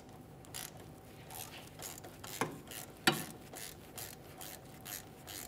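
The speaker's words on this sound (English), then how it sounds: "there's a 10 millimeter bolt holding it in place. We're going to carefully remove that." A 10 mm bolt is worked loose from the rear wheel bearing area of a 2008-2017 Mitsubishi Lancer 2.4L, giving quiet, rapid ratcheting clicks with two sharper metallic snaps partway through and no voices.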